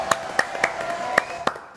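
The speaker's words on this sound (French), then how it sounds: "Allez, applaudissements." A handful of separate claps ring out at a French television show, five sharp hand strikes spaced unevenly over a faint background hum rather than full sustained applause.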